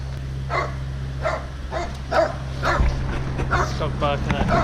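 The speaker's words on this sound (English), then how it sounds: "Stop barking at" A dog barks and yips in short repeated bursts inside a car during a long all-day road trip across Australia, over a steady low engine and road hum, with people talking alongside.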